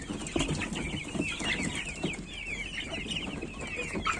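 Young Bresse chickens cluck softly and continuously close by while eating spilled chick feed, a busy chatter of small calls over a faint background.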